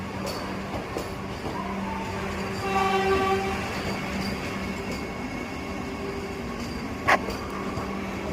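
A Vande Bharat Express train passes close by with a continuous heavy rail rumble and a brief tonal horn blast partway through, ending with a sharp clack.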